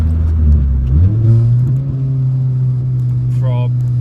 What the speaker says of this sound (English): so I'll do a second gear pull